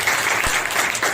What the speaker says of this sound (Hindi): जोरदार एक ताली बजाओ।